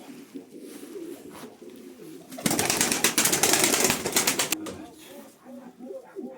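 Pigeons in a coop coo softly nearby, broken midway by a loud burst of wing flapping lasting a couple of seconds, while someone speaks in the background.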